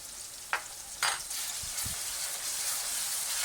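Ground garlic dropped into a frying tomato masala, giving a steady sizzle and fry with a couple of brief stirring knocks near the start, close and continuous without talk.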